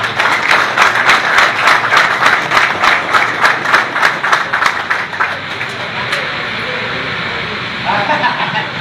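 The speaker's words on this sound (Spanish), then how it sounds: "Y para la que pido un fuerte aplauso para ella." A crowd at a political gathering in Higüey applauds for a woman, loud rhythmic clapping for several seconds that fades into a steady background murmur.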